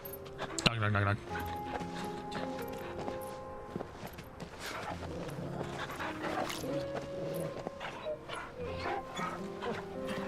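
A dog barks and yips in the video game Final Fantasy XVI, short bursts under steady game music, ambient noise and a person talking.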